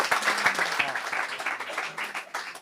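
A church congregation claps and applauds in a lively, ragged burst, hands striking close and loud with a few voices mixed in.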